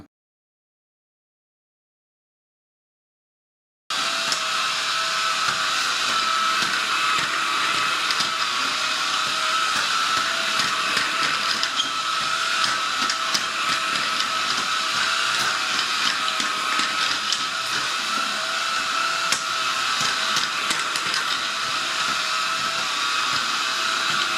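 A JASHEN V16 cordless stick vacuum cleaner (25.2V, 350W) running in mode 3 gives a loud, steady whirring hiss that starts abruptly after about four seconds of silence and continues unbroken, with no talking.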